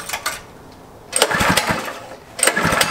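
A go-kart's 212 small engine being cranked in short rough bursts, sputtering and catching briefly, with gaps between pulls, close and loud.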